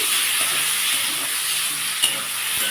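Prawns fry in a pan with a loud, continuous hiss of hot oil, a sharp clink of a spatula near the end, no talk.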